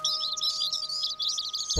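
Cartoon bluebird chirps in quick, bright, continuous twittering, close and clear, with no voices over it.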